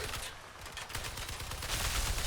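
Gunfire in the vehicle combat game Crossout, rapid close bursts of shots layered over rumbling engine noise, loud and dense over a couple of seconds without talk.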